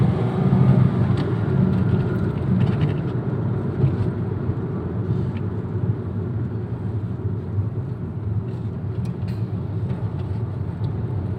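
A 2014 Toyota Etios Valco accelerating on the road, heard from inside as a steady, loud low engine drone and road rumble that stays fairly even, with a few light rattles over the top.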